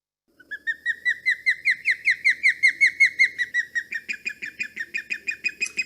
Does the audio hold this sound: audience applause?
no